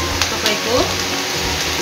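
Nepali-style rice noodle chicken chowmein fries in a pan while being stirred, giving a continuous hissing sizzle with occasional scraping clinks, close and steady under a voice.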